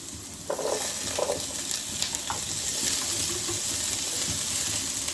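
Shallots and ginger garlic paste sizzle steadily in hot oil, a continuous close frying hiss with a few soft stirring scrapes and no talking.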